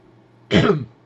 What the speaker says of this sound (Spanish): Disculpad por la tos, pero tengo un poco de carraspera.